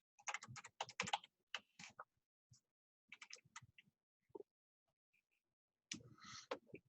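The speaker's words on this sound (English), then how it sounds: "go ahead and get comfortable typing some things in these boxes here" Typing on a computer keyboard comes in quick bursts of clicking keys separated by pauses, close and fairly quiet.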